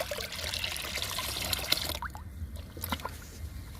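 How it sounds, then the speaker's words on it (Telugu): Neem leaf liquid pesticide poured onto potted plants, a steady trickling and splashing of liquid close by, running continuously with small splatters and no talk. "ఈ లిక్విడ్ని మనం ఇప్పుడు మొక్కలకి ఇచ్చేద్దాము."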